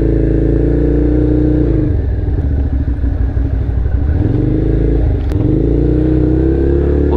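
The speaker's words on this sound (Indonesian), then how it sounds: "Bunyi motor ni memang nice lah." A loud Italjet Buccaneer 250i motorcycle engine with a deep, lumpy V-twin rumble, revving down and back up twice, steady and close throughout.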